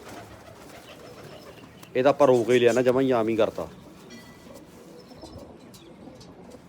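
Pigeons, including a black bird bred from a red and white pair, cooing in a loud burst of a second and a half in the middle, with people talking around it.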